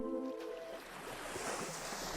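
Soft surf at Playa Sirena, gentle waves washing up on the sandy shore in a continuous faint hiss with slow swells, calm and distant.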